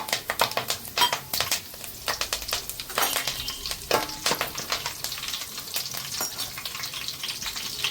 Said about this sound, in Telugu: ఆయిల్ వేడెక్కిన తర్వాత కరివేపాకు వేసుకొని